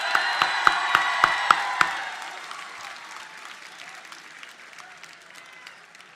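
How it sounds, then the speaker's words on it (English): Applause from a crowd at a high school graduation ceremony, with several sharp, loud, evenly spaced claps from one nearby person over the dense clapping, which then fades gradually to quiet. "Let's give a big round of applause to Ms."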